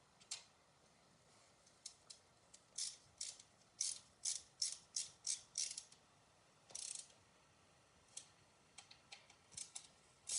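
Screws being tightened on a Prusa Core One 3D printer during a Bondtech INDX upgrade assembly: close, quiet bursts of clicking and ratcheting in uneven clusters, with short pauses between them and no talking.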